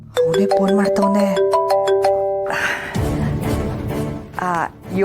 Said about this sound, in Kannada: ಅವನೇ ಫೋನ್ ಮಾಡ್ತವನೆ.